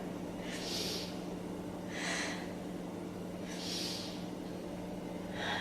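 Three deep, slow yoga breaths, each a long airy exhale through the nose about every one and a half seconds, close and alone over a low steady hum.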